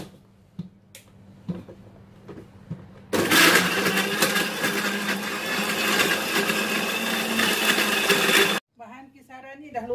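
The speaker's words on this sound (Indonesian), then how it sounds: "Mula-mula kita akan kisar semua bahan ni ya." An electric blender grinds coriander, bay and basil leaves with shallots in one loud, steady whirring burst lasting several seconds, cutting off abruptly near the end; quiet clinks and faint speech come before it.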